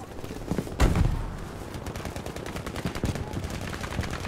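Rapid bursts of rifle and machine-gun fire from Battlefield V gameplay, with a loud nearby shot early on and then continuous rattling volleys. Distant battle noise fills the background.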